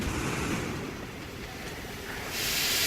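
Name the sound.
train in the video game Metro Exodus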